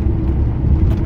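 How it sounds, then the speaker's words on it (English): Road traffic passing at night, a steady close rumble of car engines and tyres that holds loud and unbroken throughout, with no voices over it. "There's a lot of traffic."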